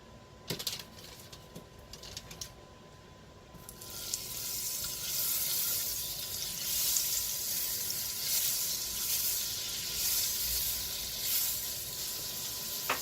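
Butter and oil sizzle steadily in a Finex 10-inch cast iron skillet, a close, bright frying hiss that swells after a few seconds of faint clatter and then holds, with no talking.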